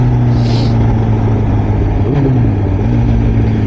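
Honda CBR 1000RR motorcycle engine, loud and close, holding a steady droning hum with a brief pitch dip and rise partway through as it shifts, amid surrounding traffic.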